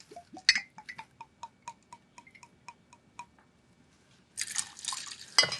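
Blue Curacao liqueur is poured for a cocktail: a run of quick, evenly spaced drips and glugs from the bottle, close and clear, ending in a louder steady splash of liquid.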